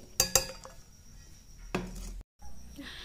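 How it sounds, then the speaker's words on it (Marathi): Green chillies and garlic are pounded in a mortar and pestle: a quick pair of sharp knocks, then a single heavier strike after a quiet pause. "खलबत्त्यामध्ये कुटून घ्यायच्या आहेत"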